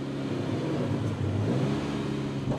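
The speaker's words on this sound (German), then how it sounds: "Während der Motor bei niedrigen Drehzahlen warm läuft" A Volvo 240 Turbo race car, a former works car, idles at low revs while warming up, giving a steady, close, moderately loud engine rumble with an even low throb throughout.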